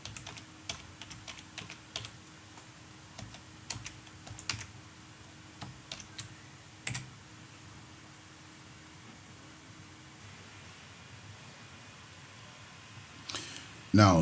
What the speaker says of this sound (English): I'll type my password.